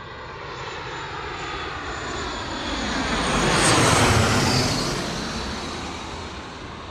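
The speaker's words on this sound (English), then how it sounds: "Look how much the Embraer 145 is pushing its nose for the crosswind arrival" An Embraer E145 regional jet lands on an evening crosswind arrival at Bristol Airport, its broad engine roar swelling to a peak mid-pass and then easing off, steady and loud with no voices.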